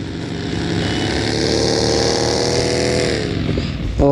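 A motorcycle engine in the mobile battle royale game BGMI drones steadily and loudly, holding a sustained revving tone that builds slightly before a sharp change at the end.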